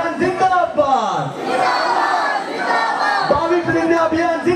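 Crowd at a public rally on Dr. B.R. Ambedkar's 22 Vows shouting a slogan in unison, loud and close, with voices rising and falling together throughout.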